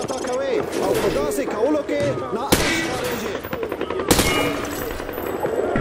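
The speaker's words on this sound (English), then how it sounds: "Grab that weapon off the table and fire at the targets behind you." Rapid gunfire in Modern Warfare 2 as a weapon sprays bullets at targets, sharp repeated shot bursts with a couple of louder cracks, heard under someone talking throughout.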